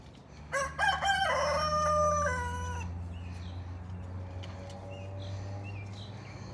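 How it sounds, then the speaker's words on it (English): A rooster crows loudly and close by, one long stretched cock-a-doodle-doo with a harsh rising start, followed by fainter clucking and distant bird calls over a steady low background hum. "Them motherfuckers be crowing at the crack of dawn."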